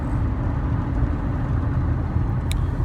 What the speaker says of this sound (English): Trust me, it's a pump truck.